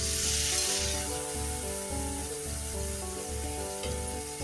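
Water poured into a hot turmeric tempering in a pan bursts into a loud sizzle that eases into a steadier frying hiss, with background music playing throughout.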